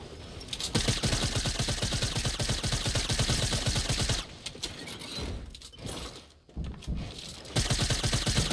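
Rapid automatic gunfire in the Fortnite battle royale game, dense fast bursts rattling almost continuously with brief pauses and a final renewed volley.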